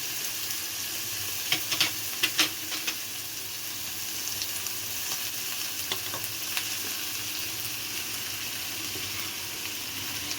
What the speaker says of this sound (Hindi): और इसको 1 से 2 मिनट हम फ्राई करेंगे।